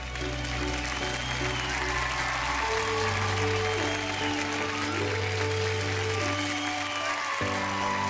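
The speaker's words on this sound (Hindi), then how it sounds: "एक बार जोरदार तालियां हो जाए सुशांत के मम्मी पापा के लिए।" An audience applauds Sushant's parents as they come onstage, a steady wash of clapping running the whole time under sustained musical tones that shift in pitch.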